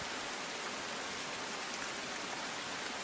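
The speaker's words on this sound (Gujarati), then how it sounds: "અલગ અલગ વિસ્તારોમાં સાબરકુંડલામાં વરસાદ વરસી રહ્યો છે" Heavy monsoon rain pours down steadily in Savarkundla, Gujarat, a dense, even hiss of falling water with no let-up and no voices.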